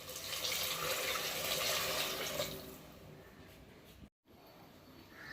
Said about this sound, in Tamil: இப்போ 2 கப் தண்ணி சேர்த்துக்கிறேன்.